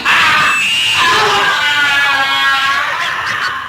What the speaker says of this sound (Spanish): una especie de alarido agónico